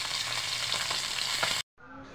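Smoked fish (tinapa) frying in a pan, a dense, close crackling sizzle with scattered pops and spatters that cuts off abruptly near the end, then resumes more quietly.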